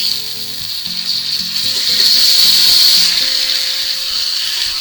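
Ribeye steak sizzles loudly and steadily in a hot pan after being flipped, a dense continuous frying hiss swelling slightly midway, with a faint low tonal hum running underneath.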